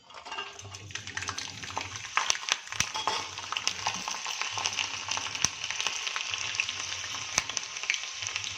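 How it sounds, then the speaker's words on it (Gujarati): Whole garlic cloves fry in hot oil in a home kitchen pan, a steady close sizzle with crackling pops. A few sharper spatters and light stirring clicks sound over the continuous hiss. "લસણને આપણે આખું જ આની અંદર ફ્રાય કરી લઈશું"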